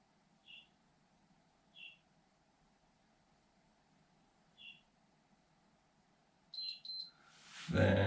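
Short electronic beeps from an exercise interval timer sound at irregular intervals over a quiet hum, then a quick double beep just before a muffled thump.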